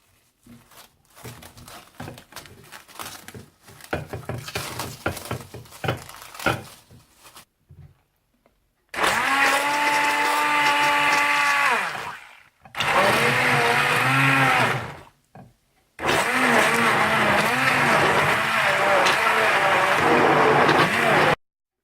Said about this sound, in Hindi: लेकिन अब मैं इसे हैंड ब्लेंडर से ब्लेंड करूंगी।